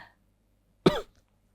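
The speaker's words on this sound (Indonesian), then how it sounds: "Bukan saya yang batuk." One short, sharp cough sounds close by in an otherwise quiet room, standing alone with no speech around it.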